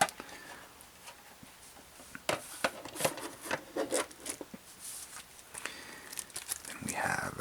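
A small plastic bag holding a Neo-Geo game manual crinkles and rustles up close in soft, irregular bursts, louder toward the end, with quiet speech between.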